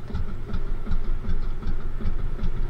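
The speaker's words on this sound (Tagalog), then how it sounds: "Paminor-minor na tayo ng makina pa uwi." A fishing boat's engine runs slowly at low throttle on the trip home from night spear fishing, a steady, close rumbling chug with a regular pulsing rhythm and no voices.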